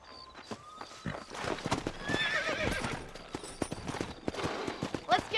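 Horse hooves clip-clop in a trotting rhythm, with a whinny and some voices mixed in, moderately loud, in the video game Red Dead Redemption.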